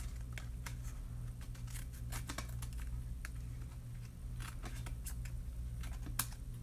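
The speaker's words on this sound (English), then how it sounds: "And then trim the excess." Scissors snip away excess paper while making circus treat boxes, a quick series of faint, crisp cuts and clicks over a low steady hum, with no talking.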